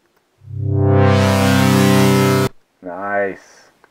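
A sustained synthesizer pad with LFO modulation swells in with a rich harmonic buzz and holds steadily, then cuts off; a shorter, wobbling synth note follows.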